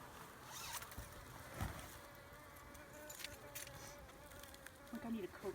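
Bees hum in a continuous insect drone at an open beehive on the seventh day, with a brief rustling, zipper-like sound and a few louder close passes near the end.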